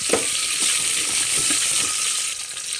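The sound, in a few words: sliced onions frying in hot oil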